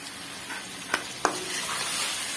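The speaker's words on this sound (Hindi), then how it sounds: "अब इसको हम भूनेंगे" Meat for tinda gosht frying in a pan over medium heat, a steady broadband sizzle with a couple of sharp clicks from stirring, no talk.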